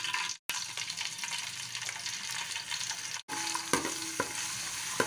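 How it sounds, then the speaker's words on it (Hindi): Garlic-ginger paste frying in oil in a pot, giving a steady loud sizzle that runs throughout with brief pauses and a few sharper stirring clatters near the end. "अब हम इसमें डालेंगे लहसुन अदरक का पेस्ट"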